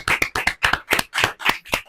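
An audience at a political meeting claps in a rhythmic, evenly spaced series of about eight loud bursts, close and distinct, with no talk over it.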